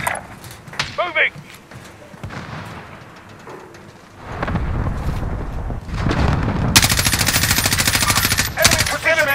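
Call of Duty Warzone airstrike erupts with loud rumbling explosions and rapid gunfire, building to a dense, continuous barrage in the second half after quieter bursts and brief voice snippets at the start.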